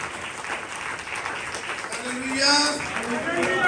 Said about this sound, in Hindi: खुदा की आवाज को वेलकम जोरदार तालियों में कीजिए, जोरदार तालियों में।